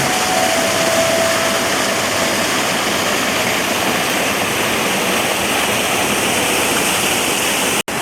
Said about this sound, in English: Really nice waterfall.